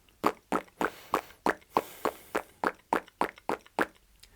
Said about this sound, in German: Wenn es bei dir auch dieses Plopp-Geräusch macht, dann hat deine Zunge gerade Luft herausgeschoben und damit die Lippen bewegt.